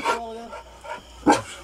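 A dog barks outdoors at night in a yard, a few short barks spaced across the moment, fairly close, with a voice speaking between them.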